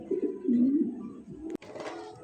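A pigeon of a fancy Mundian breed coos nearby in a soft, low, wavering call, followed by a brief click and faint rustling.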